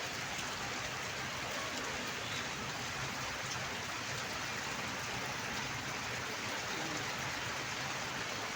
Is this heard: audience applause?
no